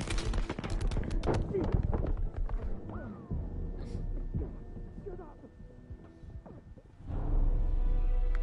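Gunfire in the Blood & Truth video game, a dense run of close shots and bursts with game effects, mixed under shouting voices and fading before another loud stretch near the end.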